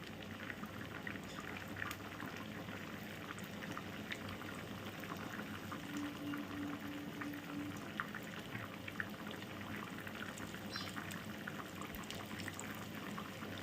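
Cumin seeds fry in a pan beside ginger for paneer chola pasandi, giving a steady, close crackling sizzle that runs evenly throughout with no talk.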